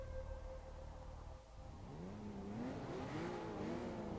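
Porsche race car engine in the video game Forza Motorsport 6, a fairly quiet steady drone that shifts into rising and falling revs as the car accelerates and the gears change.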